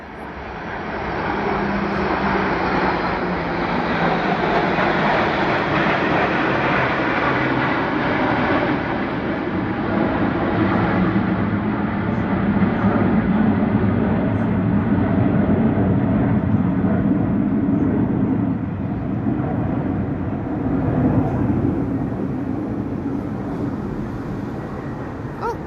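Military aircraft flying over Paris near the Arc de Triomphe during the 14 July Bastille Day parade, a loud sustained roar of jet engines that swells and lingers for the whole stretch, with no talk over it.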